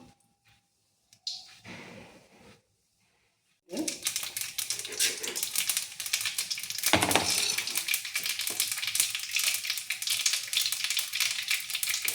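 After a few quiet seconds and faint clatter, mustard seeds hit hot oil in a pan and burst into a loud, dense crackling sizzle with rapid popping that continues steadily.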